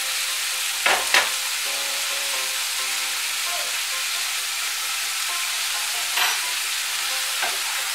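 Bitter gourd and pumpkin pieces with salt and turmeric are stirred in a hot pan, giving a soft steady sizzle with occasional spatula scrapes and knocks.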